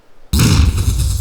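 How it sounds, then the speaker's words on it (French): A sudden loud explosion sound effect bursts out of silence and rumbles on with a sustained, noisy roar that fills the rest of the moment. "il me faut un bruit explosion."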